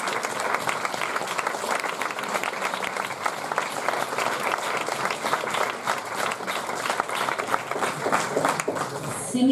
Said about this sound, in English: I would like to ask you to give a big round of an applause